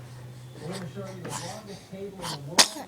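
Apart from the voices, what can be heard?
sneeze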